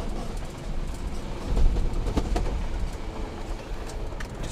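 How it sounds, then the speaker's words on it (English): The Australian Orient Express, a luxury train, rolls along railroad tracks with a loud, close, steady rumble and faint rhythmic clicks from the wheels. "Let's take a trip on a premier railroad train."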